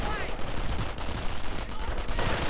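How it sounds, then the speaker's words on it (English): Bursts of Browning automatic rifle fire crackle in a World War II strategy video game battle, rapid overlapping shots and explosions mixed with game sounds and a voice underneath. "Riflemen doing what they can with their Browning automatic rifles."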